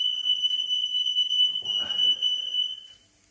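Smoke alarm shrieking while a turkey breast cooks Jamaican style in a home kitchen: a loud, steady high-pitched electronic tone that sounds continuously, briefly mixed with a burst of clattering kitchen noise midway, then cuts off near the end.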